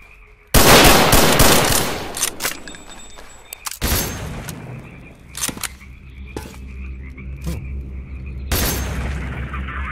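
Gunfire erupts in the video game S.T.A.L.K.E.R.: Call of Pripyat with the Misery mod, starting as a loud sustained burst and followed by scattered sharper shots and booms under a steady game ambience, with no talk.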